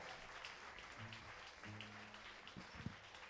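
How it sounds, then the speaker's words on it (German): Faint, distant applause patters steadily from a concert crowd, with a few soft cheers rising over the clapping. "Ein riesen Applaus für die"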